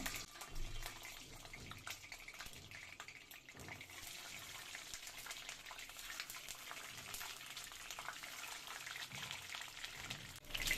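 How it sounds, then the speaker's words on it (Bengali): Eggs frying lightly in plenty of oil for egg dopiaza, a faint, dense, even sizzle with a hissing, bubbling texture that runs continuously without voices. "তেলের মধ্যে ডিমগুলো আমি হালকা ভেজে নেব"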